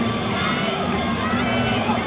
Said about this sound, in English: He's got the crowd going too.